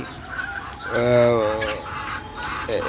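A Fayoumi hen gives a drawn-out, nasal cluck close by, with faint background chatter and other soft fowl sounds around it.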